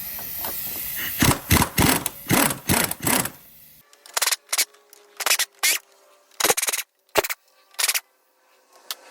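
Engine mount bolts, size 15, are undone on a Ford Fiesta 1.6 Ti-VCT, heard as a run of sharp, loud ratcheting bursts in quick succession, then a pause and sparser separate bursts against near silence.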